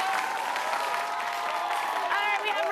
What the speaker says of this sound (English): Big round of applause for our team from St. Thomas